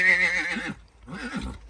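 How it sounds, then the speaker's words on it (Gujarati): A horse neighs close by on a farm, a loud, shrill whinny that fades out before a second, lower whinny follows, with no talk over it. "ફ્રેન્ડ તમે જોઈ રહ્યા છો ઘોડો."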